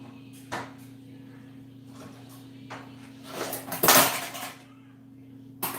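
Pots and dishes clatter close by in a kitchen while rice is brought over, a few scattered clinks and knocks followed by a louder rattling burst and a final clunk.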